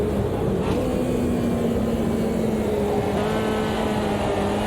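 Fiat Uno race car at Cascavel in Automobilista 2, its engine pulling hard under acceleration with a rising steady whine and a buzzy drone, loud and continuous with no talk.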